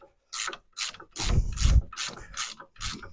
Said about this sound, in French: Tu vois, au cliquet, franchement, sans forcer, ça va nickel.